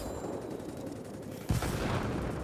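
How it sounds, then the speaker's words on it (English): A bomb released from an F-86A jet in a flight combat game explodes with a sudden loud low-heavy boom midway, after a steady roar of engine and gunfire, followed by a sustained rumbling blast. "Drop our bomb."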